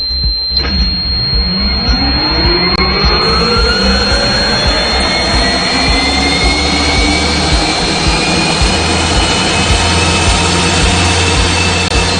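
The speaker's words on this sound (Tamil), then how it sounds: "இந்த இன்ஜின் வந்து ஸ்டார்ட் ஆயிடுது." A jet aircraft engine spools up from a brief click into a loud, steady whine, a rising high tone layered over a deep continuous roar that keeps building.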